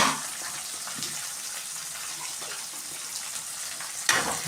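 Onions, tomatoes and curry leaves are sautéed in a pan for a fish curry, giving a steady, close hiss of sizzling oil with a brief clatter near the end and no talk.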